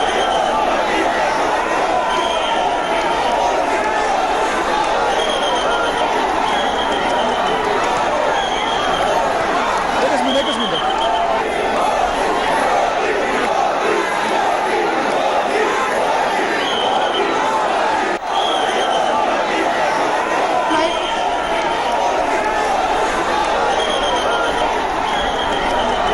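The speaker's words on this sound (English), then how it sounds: "you can hear, of course, the Modi slogans that were being raised" A large crowd at the Bandra Kurla Complex raises Modi slogans during the inauguration of a Shivaji memorial, a dense, steady roar of many voices chanting and shouting that stays loud and unbroken throughout, with rhythmic bursts rising out of the babble.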